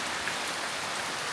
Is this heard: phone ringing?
no